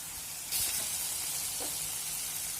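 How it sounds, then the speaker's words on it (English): Ginger and green chili paste sautés in a pan with a steady, soft sizzle that grows slightly louder after a moment and then holds evenly. "Let us saute the ginger and green chili paste till the raw smell is got rid of."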